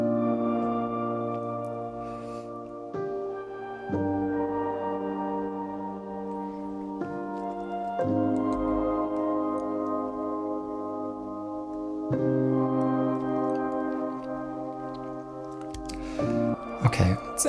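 Four sustained piano chords layered from several piano plugins in an electronica track, each held for about four seconds before shifting to the next, warm and full, with a brief flurry of higher notes near the end.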